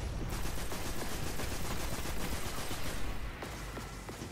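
Dense, continuous rapid gunfire from the video game Destiny during a boss fight, with overlapping automatic bursts and impacts filling the whole stretch at a steady, fairly loud level.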